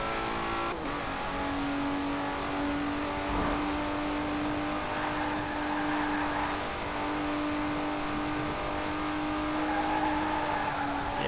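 An Aston Martin in Forza Horizon 4 revs high during a race, its steady engine note droning loud and continuous with a brief tire squeal early on.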